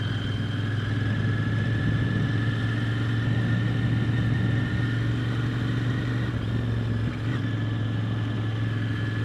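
A Royal Enfield Interceptor 650 motorcycle is ridden with a steady low engine drone and wind rush, constant and fairly loud, without gear changes or sharp revs.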